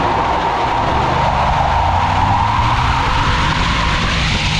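A 2024 Ford F-150 STX with a 3.15 axle ratio accelerates under load, its engine a loud, sustained roar whose pitch climbs steadily as it revs, heard continuously with road and wind noise.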